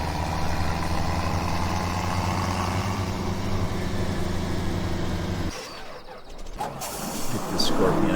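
A tractor engine in Farming Simulator 17 idles with a steady, loud, mechanical low drone, then stops abruptly partway through and leaves quieter clunks and shifting noises.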